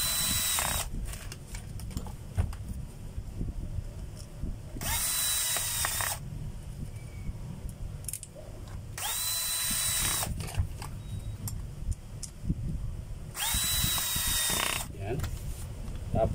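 A power drill drives in a screw in short bursts of high whirring, three or four spins separated by pauses, with clicks and handling noise between them.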